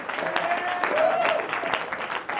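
Audience applause and cheering for stand-up comic Ben Bellamy, a dense wash of clapping with some whoops and crowd voices mixed in, steady and fairly loud throughout.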